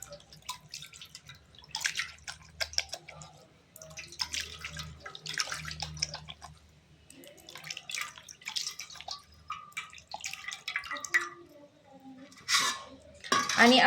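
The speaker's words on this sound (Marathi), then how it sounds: "क्लीन पाण्यामध्ये मी स्वच्छ करून दाखवते." A gold ring rinsed in clean water at home, with drips, small splashes and light metallic clinks against a bowl in uneven bursts, close and clear, without talk.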